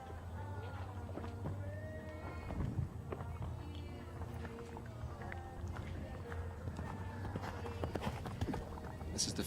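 Horse hooves thud and clip-clop across turf during a show jumping round in the Maple Ridge Presidents Cup, a steady running rhythm at a moderate distance under crowd and outdoor background noise.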